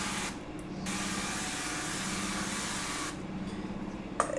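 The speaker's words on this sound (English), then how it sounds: "I'm going to spray these down with olive oil" Olive oil sprayed from a pump bottle onto asparagus spears in a kitchen, a steady close hiss lasting several seconds, pausing briefly, then resuming with a small click near the end.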